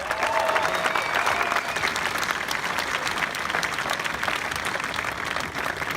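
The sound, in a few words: applause for the graduating class at a graduation ceremony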